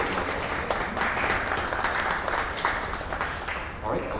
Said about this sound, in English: Please give Wendy a round of applause.